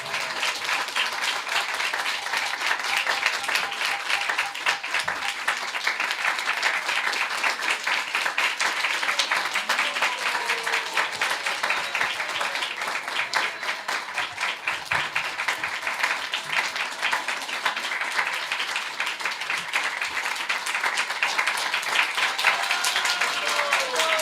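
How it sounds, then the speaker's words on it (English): An audience at a Hare Krishna devotional lecture applauds steadily and loudly for the whole stretch, with dense, sustained clapping and faint voices underneath. "Claps are delaying the sender feast."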